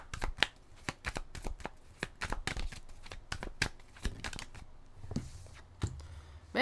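Tarot cards shuffled in a series of quick crisp riffles and slaps, close and fairly loud, with short pauses between bursts and no talking.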